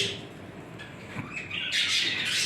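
Show budgerigar chicks give a rising chorus of raspy, high-pitched squawks and chirps close by, growing louder and denser toward the end, with no voices over them.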